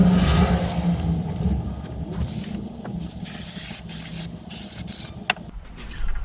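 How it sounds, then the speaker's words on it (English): Spray adhesive hisses steadily from a can onto a van panel inside a camper van conversion, a loud continuous spray with a few brief pauses and clunks. "one thing I'm doing is being careful not to spray this straight all over the new carpet"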